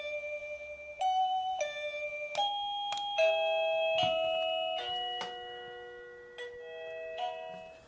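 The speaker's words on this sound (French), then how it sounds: "Et ici, on va changer la sonnerie." A new ringtone on a wireless electronic doorbell: a clear melodic sequence of electronic chime tones stepping through different pitches, each note ringing and overlapping the next, close and alone in a quiet room.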